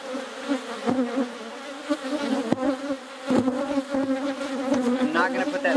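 Honey bees swarm and buzz loudly around an opened hive that has just been split, a dense, steady drone with a few sharper passes close by and a faint voice in the background.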